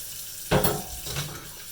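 Tap water runs into a kitchen sink as items are rinsed, a short splashing gush that starts abruptly, then softens and surges again.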